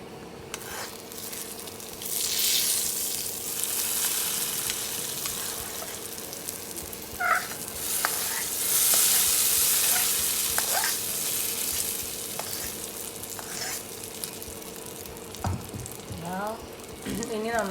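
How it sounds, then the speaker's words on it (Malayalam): Pumpkin and bean erissery with roasted coconut sizzles steadily in a pan on a Kerala stove while a spoon stirs and scrapes now and then, with a few brief cat meows heard faintly over the frying. "ഇനി നന്നായിട്ട് നമുക്കൊന്ന് ഇളക്കി കൊടുക്കാം."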